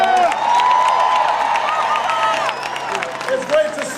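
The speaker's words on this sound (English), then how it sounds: "Give them a big round of applause." Crowd at a campaign rally in Ohio applauding and cheering, a dense, loud wash of clapping and voices sustained throughout, with whoops and shouts rising above it.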